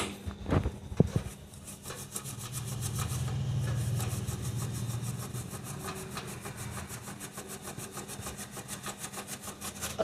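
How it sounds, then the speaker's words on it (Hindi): A small brush scrubs the RAM slots of a desktop computer that powers on but shows no display, giving a faint, rapid back-and-forth rasping with a few sharp knocks at the start. "मैं इन ब्रश के साथ इनको क्लीन कर रहा हूँ।"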